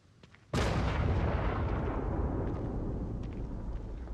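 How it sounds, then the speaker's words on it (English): A sudden loud explosion in the video game The Evil Within 2 bursts in after a brief quiet moment, then rolls on as a sustained roaring rumble that slowly fades, with no speech. "I feel like the explosion is not a good sign"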